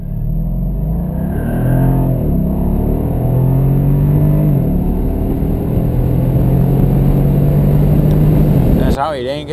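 A Mercedes SL500 roadster's twin-turbo V8 rumbles steadily up close, its engine note rising and settling under continuous talk before cutting off abruptly at the end.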